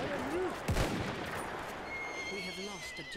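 In the Battlefield 1 war game, a horse whinnies in a rising, wavering call, cut across by a sharp gunshot and distant battle noise, with voices talking over the scene.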